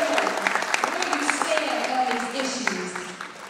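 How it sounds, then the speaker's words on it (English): A crowd at a city council candidate forum claps steadily and moderately loud, with voices and some talk mixed into the applause. "I want a round of applause"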